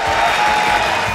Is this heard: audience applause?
yes